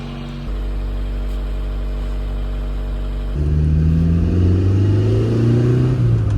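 A carbureted Nissan Be-1 engine idles steadily with a low, even hum, then its pitch and loudness rise into a fuller, revving tone partway through, heard close with no talking.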